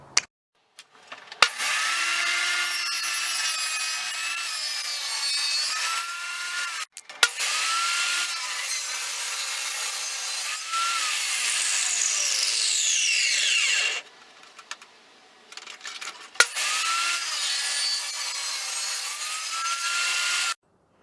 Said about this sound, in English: I'm going to cut that off on the table saw